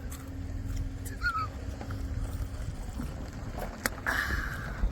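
Low, blustery wind rumbles against the microphone with gusty buffeting throughout at the Edge of the World cliffs in Saudi Arabia, and a few faint voices cut in briefly.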